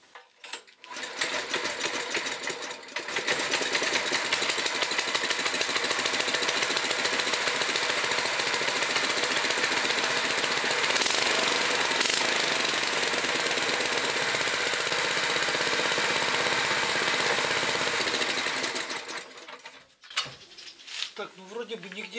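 A small engine fitted with a gearbox on a homemade motor draisine runs steadily and loud after starting, a fast continuous mechanical chatter close by that cuts off near the end.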